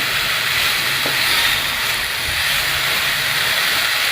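Dill leaves sauté in two spoons of oil in a pan, giving a loud, steady, close sizzling hiss that carries evenly throughout without pause.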